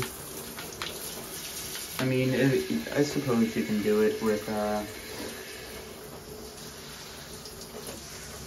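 A detachable shower head sprays water over a bike being washed in a home shower on a gentle setting, a steady hiss of running water throughout with a louder, splashier burst in the middle, while someone talks over it.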